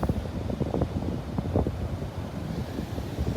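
Strong wind buffets the microphone on a rough-surf beach in northeast Florida, a constant roaring rumble with gusty low thumps throughout.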